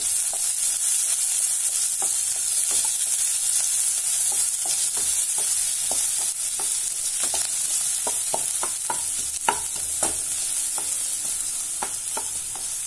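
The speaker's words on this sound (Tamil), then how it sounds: "வெங்காயம், இது நல்லா வதங்கணும்." Onions with garlic paste and curry leaves sautéing in a pan, a steady broadband sizzle with intermittent clicks and scrapes of stirring throughout, close and continuous with no voices.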